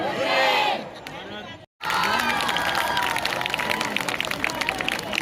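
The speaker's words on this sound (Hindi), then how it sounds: "जोर से ताली बजाइए।" School children at an event in a Ranchi school clap and cheer loudly as a crowd, with a dense burst of applause and shouting that briefly drops out, then resumes strongly with steady clapping and voices.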